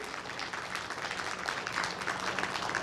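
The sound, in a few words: audience applause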